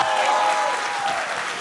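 Audience applause at a book presentation on Salvador Allende, steady dense clapping from a crowd filling the room, loud and continuous throughout with no pause.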